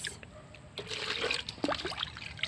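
Water trickles and gurgles as it is poured into a crab burrow on the shore, a close, uneven splashing and dribbling stream with short bubbly bursts.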